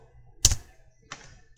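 A computer keyboard gets two separate keystrokes, a sharp close click followed by a softer second tap about half a second later, with no talking.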